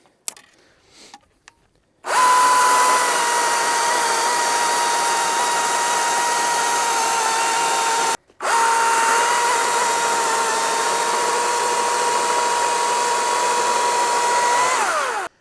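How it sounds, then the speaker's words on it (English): An EGO CS2005 20-inch battery chainsaw with a freshly sharpened chain cuts through a firewood log, its electric motor whining steadily and loudly, pausing for a split second midway, then running on without a break. "I'm just letting the saw fall through the log."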